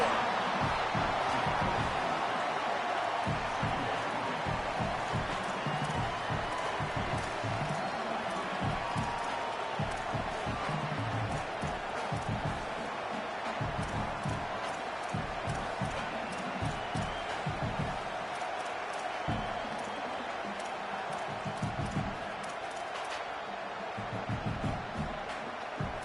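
Stadium crowd in the College Football 27 video game roars as a loud, continuous wash of cheering and noise, with some voice-like chatter mixed in and no breaks across the stretch.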